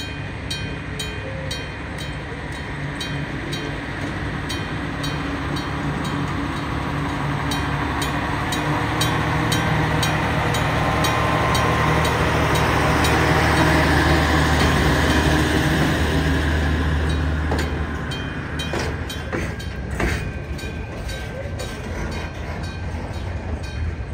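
A freight train rumbles past an old, weathered railway level crossing near a factory, a steady loud roar that swells toward the middle and eases off, with the crossing bell's faint ringing carried over it.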